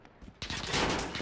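Sudden close burst of gunfire in Call of Duty: Modern Warfare, a loud sustained volley of shots erupting after a short quiet stretch with faint in-game radio chatter.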